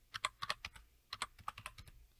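Quick bursts of typing on a computer keyboard, close and clear, in two short runs of rapid keystrokes with a brief pause between them and no talking.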